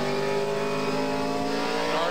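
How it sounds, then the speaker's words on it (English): NASCAR Southwest Tour stock cars racing down the backstretch at the 1997 Winter Heat 200, loud sustained engine roar with rising revving tones, steady and close throughout. "we race down the backstretch, and Grosskreutz is trying to get the lead away from Tanner"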